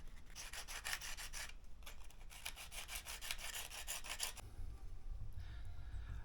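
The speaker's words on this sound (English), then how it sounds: "Keep sanding, keep at it" Hand sanding on a fitting part, close and steady, in repeated rasping bursts of back-and-forth strokes with short pauses, then stopping toward the end as a low rumble remains.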